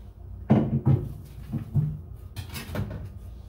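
A cryogenic freezer door is opened and shut, heard as a few close hollow thumps and clunks with a rattle near the end, short and fairly quiet.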